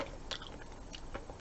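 Crunchy food chewed during a wine and clam chowder tasting, with a few crisp bites near the start and again around the end, close and fairly quiet against a soft background.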